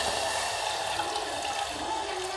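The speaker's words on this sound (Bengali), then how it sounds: "সর্বপ্রথম আমরা পরিমাণ মতো জল দিয়ে দেব।" Water is poured into a pan to start sugar syrup for puri khaja, a steady broadband splash and trickle that runs continuously at moderate level with no talk over it.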